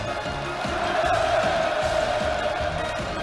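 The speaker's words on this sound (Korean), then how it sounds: "폭풍 같은 만세 환호성이 하늘 땅을 진감했습니다" A large outdoor crowd at a resort visit shouts hurrah in a sustained, massed roar of cheering voices, loud and continuous with a rising swell in the middle.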